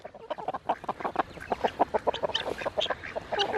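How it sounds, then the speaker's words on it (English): Chickens on new grass cluck and murmur close by in a busy stream of short, rapid calls. "Love to see birds on new grass."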